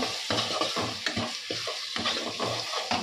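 Spices fry for a tilapia curry in a hot pan, loud and close, while a spoon stirs and scrapes in quick repeated strokes over a constant sizzle. No voices are heard.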